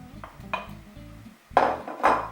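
Apples drop into a cooking pot on a stove under a running extractor hood, several light clatters followed by two louder splashing thuds close by, over a low mechanical hum.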